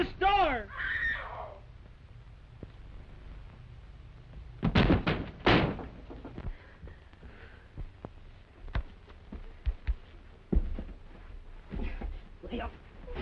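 Knocking and slamming at a door in a 1933 black-and-white film about picture brides, a few loud thumps in a cluster midway, with voices talking around them and crow-like caws early on.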